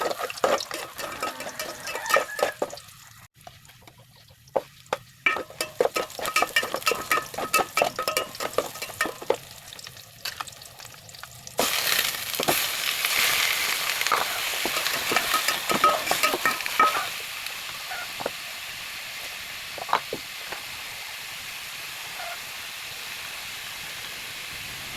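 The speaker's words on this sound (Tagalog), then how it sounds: "So ay sunod na natin yung garlic natin, toasted natin siya ng kaunti" Garlic toasts in a pan with a soft continuous sizzle, broken by frequent scraping stir strokes and clinks, with a louder hissing burst midway; close and steady, no voices.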